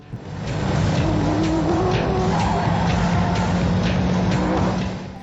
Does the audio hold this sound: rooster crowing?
no